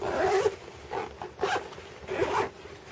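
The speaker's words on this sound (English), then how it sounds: "And the zips work well." Zip on a Vertx EDC Ready Pack backpack, a fine-tooth reversed zip, pulled back and forth in several quick rasping strokes close up with no talk.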